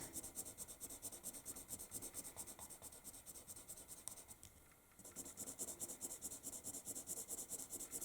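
A coloured pencil rubs white over earlier layers on paper in quick, even back-and-forth strokes, a soft, close scratching rhythm that pauses briefly midway and then resumes, with no talking.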